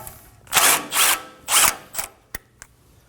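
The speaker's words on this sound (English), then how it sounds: "We're going to start by removing the bottom using a 17mm socket." A power tool with a 17mm socket spins off the lower nut of a front sway bar link on a 2017-2024 Nissan Armada, giving several short, close whirring bursts followed by a couple of sharp clicks.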